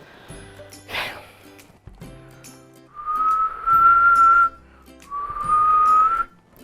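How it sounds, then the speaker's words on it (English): A person whistling two sustained, steady notes, each held over a second with a short pause between, after some quieter rustling and handling noise. "now if I see notes, then I whistle."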